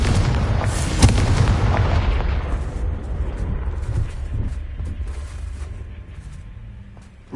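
A Confringo spell blast in Hogwarts Legacy, heard as a loud, deep boom that opens the clip and then rumbles and fades over several seconds, with a sharp crack near the start and no talking.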